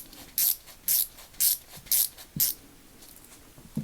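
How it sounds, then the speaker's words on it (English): A Pittsburgh Pro heavy-duty 3/8-inch flexible ratchet drives a screw back in with five evenly spaced bursts of crisp ratcheting clicks. A couple of softer taps follow, close and isolated. "now you grab your number 4 and you start screwing it back in"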